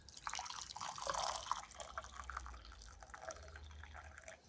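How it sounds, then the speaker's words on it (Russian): Boiling water poured from a kettle into a mug holding a little citric acid: a soft, close, continuous liquid splash and trickle over a low background hum, fairly quiet throughout. "Заливаем это все дело кипяточком"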